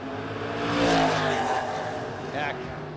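Drag race cars launching off the start line at a No Box 660 Shootout, a 69 Camaro against a Raggedy Ann Nova, heard as a swelling engine roar with tire noise that fades, under a commentator's voice.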